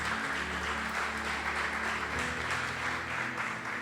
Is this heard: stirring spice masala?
no